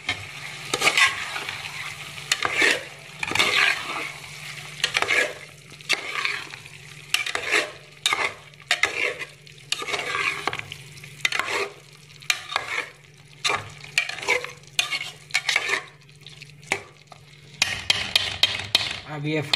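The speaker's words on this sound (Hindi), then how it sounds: "अब ये फ्राई होगा 10 मिनट के लिए" Chicken frying in oil, loud stirring and scraping in bursts with clattering pan and utensil knocks over a low background sizzle, close up and without speech.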